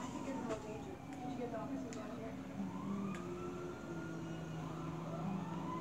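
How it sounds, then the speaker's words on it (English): Fire truck siren wailing in gliding tones under talk, steady and fairly loud against traffic noise, with the pitch sweeping up and down over several seconds. "There's the fire truck."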